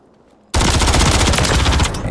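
Gunfire erupts in a video game shooter after a brief quiet, a loud dense burst of rapid shots that runs steadily for well over a second before easing off.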